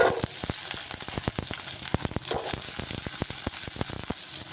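Small shallots hitting hot oil in a frying pan for cabbage chutney, a loud continuous sizzle with sharp crackling pops scattered throughout, close and steady with no voices.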